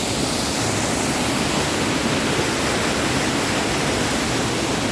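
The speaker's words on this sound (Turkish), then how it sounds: "Şelalenin dibine kadar yaklaşabiliyoruz" Steady roaring rush of the Aşudu waterfall in Darende, Turkey, heard close from its base, loud and broadband, unbroken throughout with no voices.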